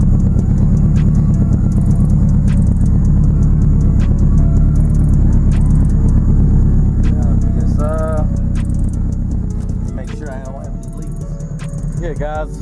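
Turbocharged Acura RSX with a K20/K24 engine running steadily, a loud continuous low rumble that eases slightly toward the end, with brief squeaky sounds near the close.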